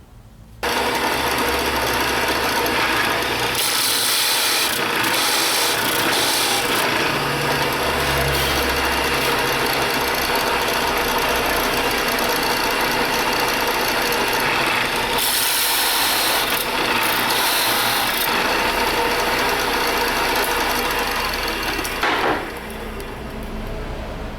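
A bench drill press bores hinge holes in wood through a guide jig, its motor whining steadily with mechanical ratcheting and rattling for nearly the whole stretch, loud and close, with brief shifts in tone as the bit cuts.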